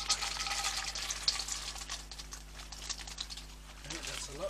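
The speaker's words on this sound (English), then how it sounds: "fry our peanuts" Peanuts frying in a pan for a pork and vegetable stir fry give off a steady, crackly sizzle with fine irregular pops, close by, with a faint low hum underneath.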